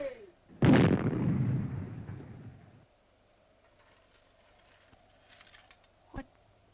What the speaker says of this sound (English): Why should there be an explosion?